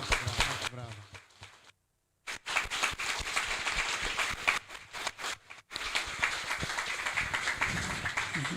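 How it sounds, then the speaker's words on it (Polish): A crowd claps steadily at a plaque unveiling ceremony honouring Lucjan Skobyłko at a Polish technical school. The dense applause breaks off briefly twice, with a few voices mixed in. "Brawa, brawa."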